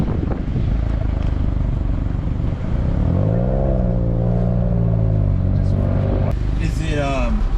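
Smart car engine revving through a loud aftermarket exhaust, rising and falling in pitch over several seconds, close by with wind buffeting and people talking over it.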